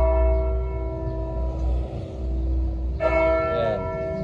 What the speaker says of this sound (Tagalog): biglang tumunog yung kampana. Alas 12 na po, alas 12 ng tanghali.